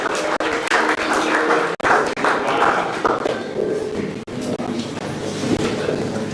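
A crowd applauds a young under-10 cricket player at a player draft event at St Charles College, a steady mass of claps and some cheering lasting several seconds, fairly loud and near, with brief dropouts.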